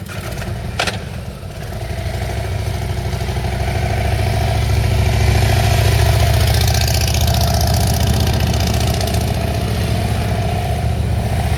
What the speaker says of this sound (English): listen carefully to her throttle. She's got a pretty loud pipe on that bike